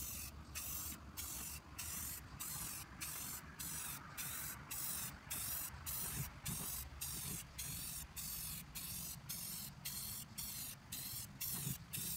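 A spray paint can hisses steadily onto an antique milk can outdoors, a close continuous spray broken by regular short pauses as the nozzle is pressed and released.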